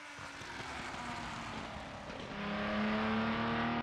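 Race car coasting on track during a lap, broadband engine and road noise steady, then a tonal drone rising slightly louder near the end, no talk.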